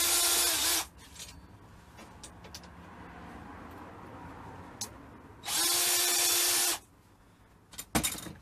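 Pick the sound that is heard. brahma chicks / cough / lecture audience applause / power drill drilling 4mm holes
power drill drilling 4mm holes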